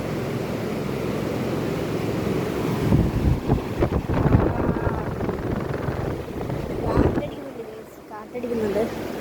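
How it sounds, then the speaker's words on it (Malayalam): Wind buffets the microphone in loud, uneven gusts, a broad rushing roar that swells and fades, with a voice speaking faintly under it. "കാറ്റടിക്കുന്നുണ്ട്."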